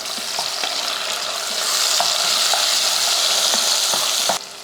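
Shallots, curry leaves and tomato sauté in a pan with a loud, continuous sizzle, scattered clicks of a stirring spoon running through it before it cuts off abruptly.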